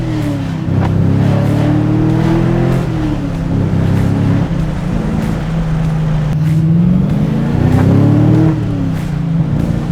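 A 2003 HSV GTS Coupe engine drones and revs while driving, a loud close rumble rising and falling through several rev swells with no talk over it.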